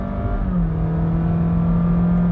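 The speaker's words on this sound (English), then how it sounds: "The engine sounds really frantic, but the actual speed of the car is not going up with any particular urgency." 2020 Honda Jazz Crosstar with a CVT, engine droning loudly at a held high pitch while accelerating, a steady frantic whine with a slight dip early on, heard from inside the cabin.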